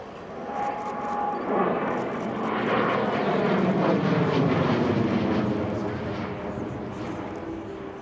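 A propeller airplane drones overhead at an airshow, swelling louder as it passes and then fading, its engine note smooth and subdued.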